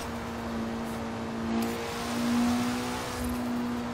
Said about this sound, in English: You can hear that blow-off valve, man.